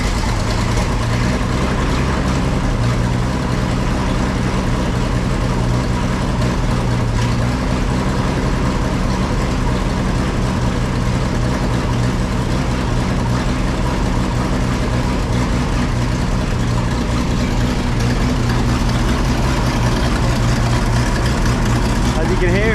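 A Commer Q4 truck engine idles steadily after standing unused for about a year, a loud, continuous low rumble that holds an even tone throughout.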